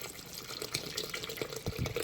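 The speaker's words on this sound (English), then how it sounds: "Put that water in." Water pours steadily into a container while making detox water with cucumbers and lemons, a continuous splashing, gurgling stream close by with no talk.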